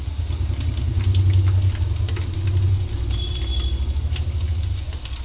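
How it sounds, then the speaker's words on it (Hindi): Garlic and onion fry in leftover oil from cooking paneer, a steady close sizzle and crackle running throughout with no talking. "अब जो तेल बचा है उसी तेल में हम ये लहसुन डालेंगे,"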